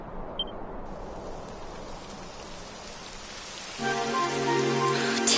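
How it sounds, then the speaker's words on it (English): Rain falling in the video game Dragon Quest XI, a steady hiss of raindrops that swells louder near the end as a tonal ambient music layer joins in. "It would have to go and start raining, wouldn't it?"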